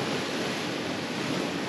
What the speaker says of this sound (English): 25 knots of wind now